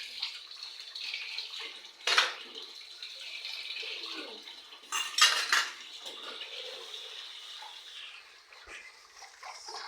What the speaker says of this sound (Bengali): এখন সবগুলো প্লেট বাটি যা যা হয়েছে ওগুলো ধুয়ে নিচ্ছি।